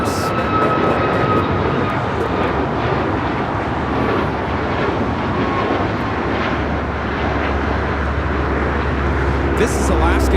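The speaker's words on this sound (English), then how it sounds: "This is Alaska Airlines 578 taking off to Portland on the MAX 9." Alaska Airlines Boeing 737 MAX 9 jet taking off at Los Angeles International Airport, a loud sustained engine roar with broadband rumble that holds steady throughout, with a voice talking faintly underneath.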